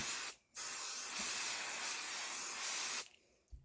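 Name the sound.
spraying basting spray onto quilt batting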